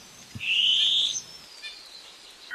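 Long-tailed cuckoo call recorded at night in New Zealand bush: one loud, shrill, rising screech lasting about half a second, followed by faint chirps against quiet background.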